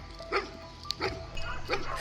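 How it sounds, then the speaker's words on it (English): Hunting dogs in a pack bark while searching for wild boar in Texas, three or four sharp barks spaced about half a second apart at a moderate distance, with talk running underneath. "The pack of dogs was still full of energy, running ahead to search for prey."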